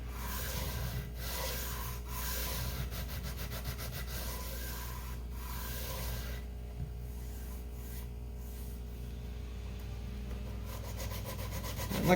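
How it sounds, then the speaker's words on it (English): A sanding block rubs in steady, even strokes along a guitar neck, a close, continuous scratchy abrasion with a faint regular back-and-forth rhythm and no voices. "You always use a sanding block, make sure you're putting in even pressure on the sides."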